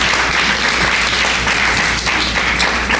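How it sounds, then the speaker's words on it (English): An audience applauds steadily and densely for about three seconds at a panel discussion, a continuous wash of clapping with no voices over it. "a round of applause for Fijin and for Patrick"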